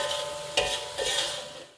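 Fish is lowered into hot cooking oil, setting off two sharp sizzling bursts over a continuous frying hiss that tapers away at the end.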